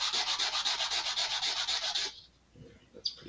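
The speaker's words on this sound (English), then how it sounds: "I'm going to quickly take off the burrs on each face of this." Model rocket part for an Estes Black Brant XII being deburred by hand, a rapid rhythmic scratchy rubbing of abrasive against the piece for about two seconds, close, then quiet handling noises.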